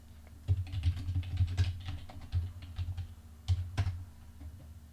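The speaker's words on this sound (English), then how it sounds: "I got tired of typing everything already" Rapid bursts of keystrokes on a computer keyboard at a DOS prompt, close and fairly loud, with uneven rhythm and short pauses between flurries, under a steady low hum and no talk.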